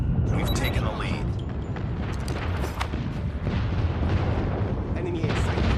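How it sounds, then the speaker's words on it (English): Airstrike explosions in the multiplayer shooter Call of Duty Mobile, heavy rumbling blasts rolling continuously over several seconds at steady loudness, with sharp pops and gunfire mixed in and game voice callouts over the top. "Friendly airstrike incoming"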